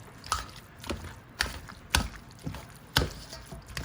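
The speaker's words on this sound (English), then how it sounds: "just go in and mash it like you would" Soft, irregular squishing thuds as a utensil presses repeatedly into mashed cooked sweet potatoes, several dull strikes spaced about half a second apart.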